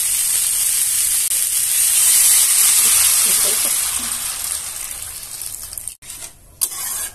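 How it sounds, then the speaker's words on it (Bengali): Water poured into a pan of fish curry with cauliflower and potato, giving a steady loud hiss and sizzle that fades and breaks off near the end. "এখন আমি দিয়ে দেবো এর মধ্যে পরিমাণ মতো জল"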